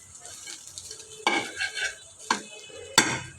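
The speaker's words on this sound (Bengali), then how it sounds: "ডিম দিয়া ভাত ভাজি করে দিলে শেষ হবে" Rice and egg being stir-fried in a pan, with a soft sizzle under scraping and clanking of a utensil against the metal in three or four distinct bursts.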